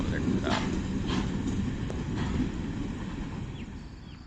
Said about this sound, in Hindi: और अच्छी स्पीड पकड़ ली है GO40 ने with Cooper van train ZBKH MT call break के साथ